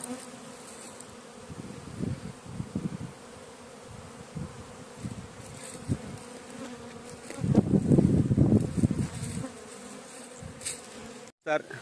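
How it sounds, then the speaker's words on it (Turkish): A steady, dense buzzing of a large honeybee swarm hums throughout, swelling noticeably louder for a couple of seconds near the end before easing back. "Evet arı, arı burada."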